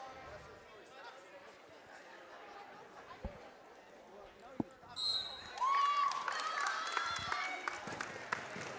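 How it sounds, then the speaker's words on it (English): Crowd at a girls' high school wrestling tournament breaks into applause and cheering for a 115-pound champion, rising from scattered noise into sustained clapping in a gym, with people talking throughout. "you can hear the applause from the young ladies' fans"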